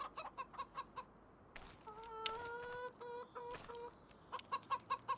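Chickens cluck in a barn in Farming Simulator 25, with bursts of short clucks at the start and end framing a stretch of sustained tonal calls in the middle, fairly close and alone over a steady low ambient bed.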